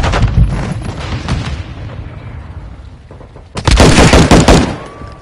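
A grenade goes off in Call of Duty amid a burst of heavy gunfire, with rapid shots early on and then a loud booming blast near the end, close and loud.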